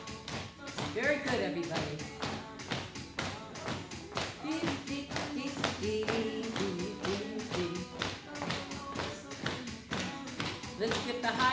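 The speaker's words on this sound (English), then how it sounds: "Slap your lap." Hands slapping on laps in a Zumba Gold class, a steady, evenly spaced patter of taps keeping time to upbeat music, with an instructor talking over it.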